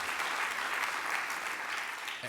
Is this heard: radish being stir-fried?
no